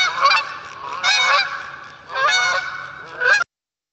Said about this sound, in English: Those are the flight calls of Canada geese.